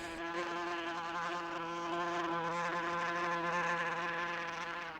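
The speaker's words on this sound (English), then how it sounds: "There's a bug in the room." A bug flies around a room, its steady insect buzz droning continuously and fairly close with a slightly wavering pitch, heard alone with no voices.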